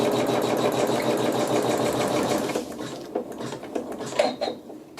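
A sewing machine stitches slowly on a quilting project, its needle chattering in a steady rhythmic whir that fades and breaks into scattered clicks and mechanical taps near the end.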